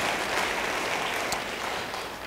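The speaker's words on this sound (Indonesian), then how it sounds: "Yang mau beri tepuk tangan yang meriah bagi dia." A church congregation claps in a broad, sustained burst of applause, many hands together at even loudness that tapers slightly toward the end.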